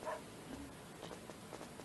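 A faint dog bark in the PS2 game Chulip, low-level and soft, surrounded by quiet game ambience.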